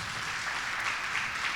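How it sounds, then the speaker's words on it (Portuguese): A church congregation applauds together, a brief, even wash of distant clapping that holds steady throughout. "Vamos aplaudir o Senhor"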